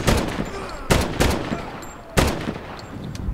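Gunfire sounds in the video game Medal of Honor (2010): a few loud, sharp bursts cut through a dense wash of battlefield noise, spaced irregularly over a few seconds.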